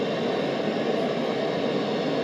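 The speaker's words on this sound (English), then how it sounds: "If it held on like this, it's like a little white noise source." A circuit-bent computer puts out a steady, loud, unbroken rush of white or pink noise, even and hissing with a darker, fuller low end, and no voice over it.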